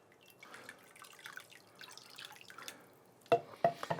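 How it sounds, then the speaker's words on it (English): Lemon juice poured into a Yorkshire curd tart mixture in a kitchen; a faint, soft trickle gives way to a few sharper, louder drips and splashes near the end. "And in with the lemon juice."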